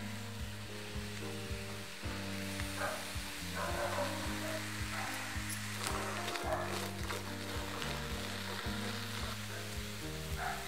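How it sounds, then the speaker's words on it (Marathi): Radish pods roasting dry in a hot wok over a high flame give off a steady, soft sizzle that runs the whole time beneath continuous background music. "मोठा गॅस ठेवून भाजून घ्यायचं।"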